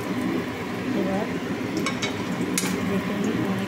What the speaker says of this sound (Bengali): একটু ভাজা হচ্ছে, আস্তে করে উল্টাতে হবে